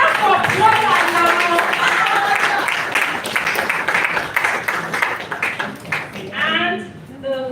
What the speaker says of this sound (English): Clap for brother now.